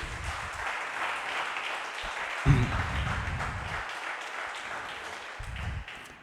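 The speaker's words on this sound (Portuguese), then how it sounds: "Pode aplaudir o nome dele?" Congregation at a church Bible study applauding, a moderate wash of clapping that carries on for several seconds, with occasional low thumps and murmurs underneath.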